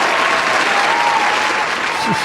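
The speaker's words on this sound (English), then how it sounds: "Round of applause for Diane" A studio audience gives Diane a round of applause on a Monday variety talk show, dense steady clapping filling the whole stretch at close range, with faint voices mixed in.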